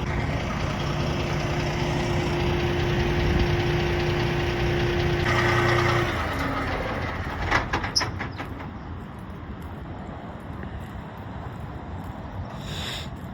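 A B-double truck's diesel engine on the Hume Highway makes a steady, loud rumble with a droning tone. It then fades into wind and road noise with a few clicks and knocks.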